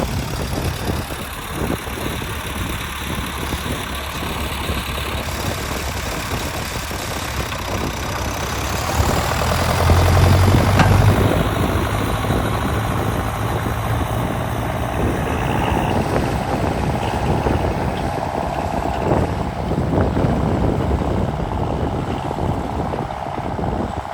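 A tractor engine runs steadily while pulling a KPSh-3 cultivator through a field, a loud continuous low drone with a brief surge in the middle, heard close throughout without voices.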